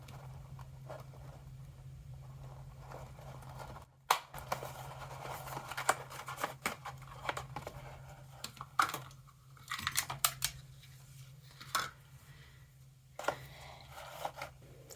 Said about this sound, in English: we'll use that same hole punch on the bag, making sure not to punch a hole in your cards